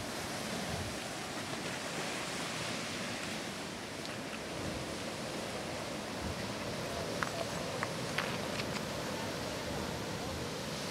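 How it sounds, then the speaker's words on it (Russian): Sea waves breaking on the shore at Maracas Bay, Trinidad, heard as steady, broad surf wash that fills the whole stretch, with a few faint clicks and knocks near the end. "Сбивающиеся волны."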